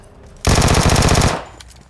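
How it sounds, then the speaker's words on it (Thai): A rapid burst of automatic AK gunfire in PUBG Mobile, loud and close, lasting under a second amid quiet game background noise. "เสียงปืนที่อยู่ทางซ้ายเนี่ยน่าจะเพื่อนเขานะครับ"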